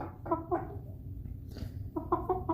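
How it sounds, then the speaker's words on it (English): Silkie chickens, a rooster and hens, cluck softly nearby in short bursts, a few quick clucks, a pause, then another cluster of calls. "here in gray is our little silky rooster named Stormy"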